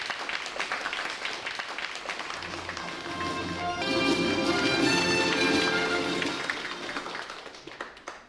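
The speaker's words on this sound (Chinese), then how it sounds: "就让我们用热烈掌声有请潘先生上台" An audience at a lecture hall event warmly applauds as Mr. Pan is welcomed to the stage to give a talk on Du Fu's poetry; steady, moderately distant clapping runs throughout while background music swells beneath it midway.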